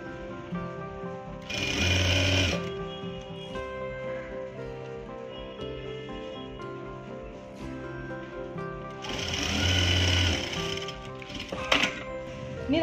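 A sewing machine stitches the seam of a cigarette pant, its rapid mechanical chatter running steadily throughout, with two louder, faster bursts of stitching standing out near the start and middle.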